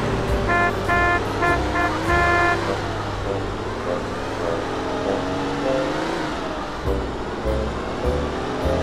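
A car being driven in GTA San Andreas, with a loud engine drone and road noise, several short horn toots early on and music-like tonal sounds mixed in.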